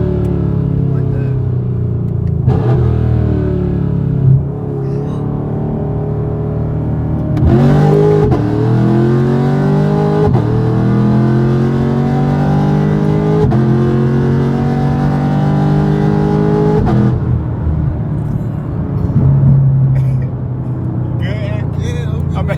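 A manual-transmission car's engine hums steadily at close range, rising in a couple of revving surges as the gas is tapped, with people talking over it throughout.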